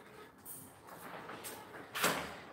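Interior door in an empty two-bedroom rental is tried and found locked, giving a few faint rattles and clicks of the handle and latch, ending in a slightly louder knock.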